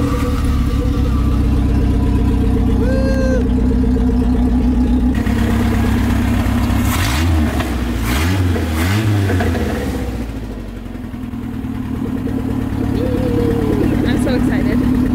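A Toyota TE72 Corolla's engine runs at a steady idle with a brief rev partway through, loud and close, while people talk over it.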